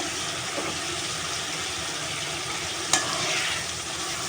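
Cubed fish pieces and a fish head drop into hot spices in a pan and sizzle, with a steady close frying hiss, a brief clatter near the end, and stirring throughout.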